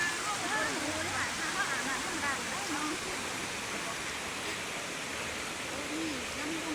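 Tad waterfall pouring in a steady, dense wash of rushing water, constant and fairly loud throughout, with faint chirp-like sounds drifting over it.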